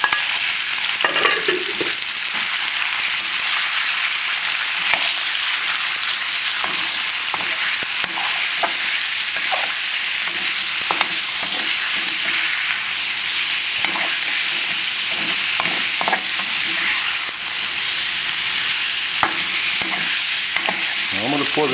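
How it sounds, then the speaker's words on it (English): Chicken chow mein fries loudly in a hot wok, a dense continuous sizzle broken by frequent clatters and scrapes as the food is stirred and tossed. "You hear that sizzle sound?"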